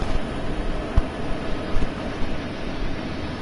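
Another train passing on Sherman Hill in Train Sim World 2, a steady close rumble of rolling stock with a couple of sharp knocks from the wheels.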